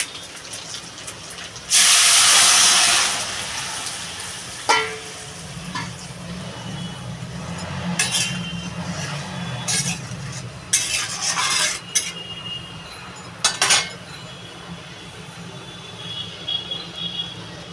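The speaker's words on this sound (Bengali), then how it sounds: "এই ঝোলটা ঢেলে দেবো" Hilsa fish gravy poured into a hot pan erupts in a loud, brief hissing gush, then a spoon scrapes and stirs the sizzling curry in steady, close strokes with occasional sharp clinks.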